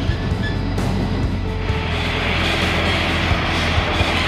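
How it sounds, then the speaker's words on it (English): Tram passing by on the Gold Coast, Queensland, a steady loud rumble of rolling wheels with clicking track joints and a faint high whine, continuous and close, with no talking. "There's another tram."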